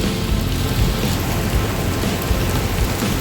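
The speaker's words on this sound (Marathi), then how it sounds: "भरपूर पाऊस पडायला चालू झालेला असा मुसळधार." Heavy monsoon rain pours down as a dense, loud, steady roar with low rumbling gusts, sounding close and unbroken from start to finish.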